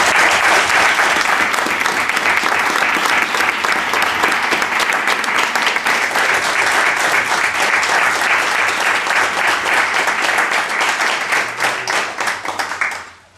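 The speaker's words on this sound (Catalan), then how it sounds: "Moltes gràcies i un fort aplaudiment per ells." An audience at an awards ceremony in Sant Corneli claps loudly and steadily in a dense, continuous round of applause that fades out at the end.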